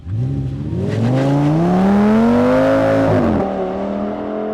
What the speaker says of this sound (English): That V10 howl gives you goosebumps every time you rev it.